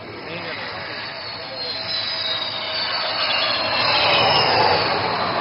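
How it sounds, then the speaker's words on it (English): A twin-engine fighter jet landing on a highway at an airshow in Moran, Dibrugarh, Assam, a loud jet roar that swells steadily as the aircraft approaches. "this twin-engine fighter demands nothing but absolute precision while landing on this highway."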